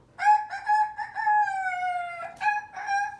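A rooster crows loudly and close up in one long drawn-out cock-a-doodle-doo, followed by a shorter second crow, with no talking.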